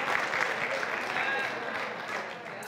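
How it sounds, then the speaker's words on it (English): A television studio audience applauds steadily for a few seconds, a thick, even wash of clapping with voices faintly mixed in. "you guys are applauding for Travis"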